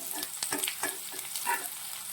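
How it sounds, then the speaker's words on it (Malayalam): Shallots and popping mustard seeds fry in hot oil, a steady sizzle and crackle in a hot pan, with scattered pops and soft stirring. "കടുക് പൊട്ടി വരുമ്പോൾ അതിലേക്ക് നമ്മൾ ചെറുള്ളി ഇടുവാണ്"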